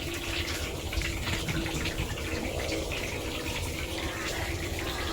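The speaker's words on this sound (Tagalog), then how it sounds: "Sasalin na po ni tatay." Lambanog liquor pours out in a steady, splashing stream during home distilling, a continuous gushing flow heard up close with faint voices in the background.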